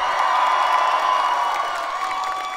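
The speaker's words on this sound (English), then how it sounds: "I think we need a bigger crowd with a bigger cheer." A live show audience cheers and shouts together, a steady roar of voices and whoops held at a strong level throughout, with no individual speech standing out.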